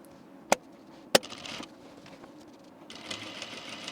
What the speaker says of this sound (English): we're going to stitch from the right side along that line there